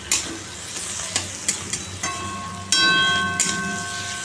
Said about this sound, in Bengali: চলো নাড়িয়ে দিই দেখো লাউ আলুর তরকারি বসিয়ে দিলাম